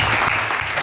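Dense, steady audience applause for a film cast of Boys Will Be Boys, a brief burst of many hands clapping close and loud with no pause.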